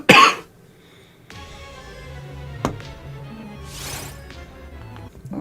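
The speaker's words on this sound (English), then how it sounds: "I don't like coughing." A single sharp cough close to the microphone at the start, then quieter room noise with a faint hum, a brief knock, and a soft breathy rustle later.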